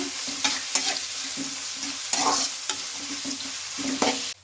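A spoon stirs mango rice seasoning through a frying pan, repeated scraping strokes and clacks over a steady sizzle, close and fairly loud, cutting off abruptly at the end.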